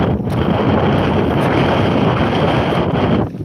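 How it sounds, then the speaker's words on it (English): Strong wind on a seaside promenade at Withernsea buffets the microphone with a loud, continuous roar and no voices. "Well, it's certainly very windy here in Withernsea."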